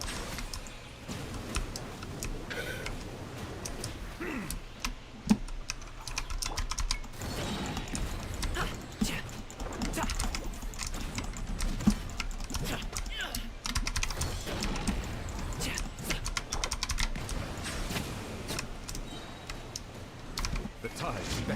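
Rapid, irregular computer keyboard typing clatters throughout, steady and close, with a voice talking over it during a Genshin Impact game session.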